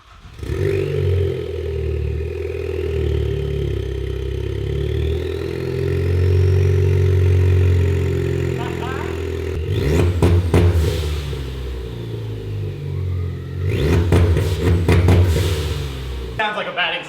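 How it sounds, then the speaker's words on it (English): A Ford Focus ST engine with an open downpipe and no exhaust system runs loud and close, droning at a rough steady idle, then blipping sharply in two bursts of revs with clattering turbo and exhaust noise. "we're gonna start it with an open downpipe because it's just gonna sound hysterical"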